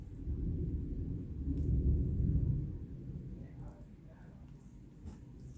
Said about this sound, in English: You hear that? That's a really bad thunderstorm that's coming.